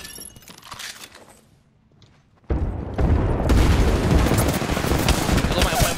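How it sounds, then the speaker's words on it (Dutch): Video game airstrike: thunderous explosions and heavy gunfire erupt suddenly after a quieter stretch of distant shots, then roar on as a dense, loud barrage. "Yo, ik airstrike."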